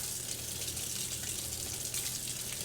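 Water runs steadily into a pot being filled for boiling dango, a continuous, fairly close gushing wash with no pauses and no talking.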